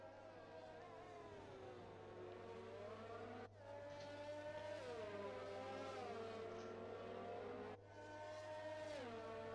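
Race cars in a racing video game pull away on the formation lap, their engines a steady, loud whine that climbs and falls through the gears in smooth sweeps, with brief shifts breaking the drone.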